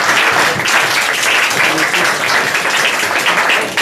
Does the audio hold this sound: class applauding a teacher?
yes